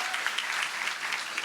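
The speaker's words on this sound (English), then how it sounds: "Let's give them another round of applause." A crowd at a university event applauds, the dense steady clapping of many hands sounding moderately distant and even throughout, with no talk over it.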